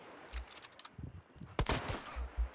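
Gunfire in a shooter video game, heard as several quick, fairly faint bursts of rapid shots scattered across a couple of seconds.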